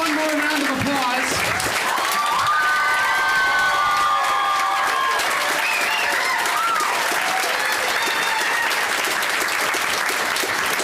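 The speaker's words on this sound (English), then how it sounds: "So let's give them one more round of applause." An audience at a live show breaks into sustained applause with cheering and some shouting, steady dense clapping that carries through the whole stretch, with voices scattered over it.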